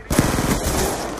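Rapid automatic gunfire from the Call of Duty: Black Ops 2 video game in gun game mode, a dense continuous burst of shots lasting about a second, loud and close.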